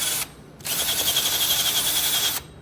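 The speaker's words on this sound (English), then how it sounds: "I have my wire rotary brush on my Ryobi gun. I'm gonna try and clean up some of that rust over there." A wire rotary brush spinning on a Ryobi drill scrubs rust off a car's front brake hub, a steady high whirring grind up close that starts, runs about two seconds and cuts off.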